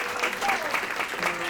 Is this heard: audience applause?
yes